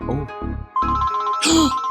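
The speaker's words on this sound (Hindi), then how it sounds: "फोन की घंटी बजी है" A telephone ringing in a Pakistani television telefilm scene, its bright electronic ring rising through the middle of the clip and repeating, partly mixed with a background music score.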